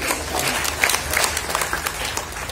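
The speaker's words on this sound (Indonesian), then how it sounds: "Aplaus untuk kawan PK sekalian." An indoor meeting audience claps together in a dense, steady round of applause lasting a few seconds, close and fairly loud.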